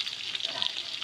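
Onions and green chillies fry in a pan for chicken biryani, giving a steady, close bright sizzle with fluttering crackles throughout, no voices present.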